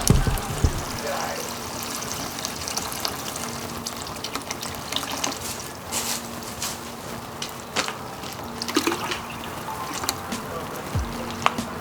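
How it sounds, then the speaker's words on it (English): Steady, loud rush of water from a garden hose flushing coolant through the engine of an Audi A4 1.8T, a continuous splashing hiss with no pauses. "I'm gonna turn the water pressure up a little bit."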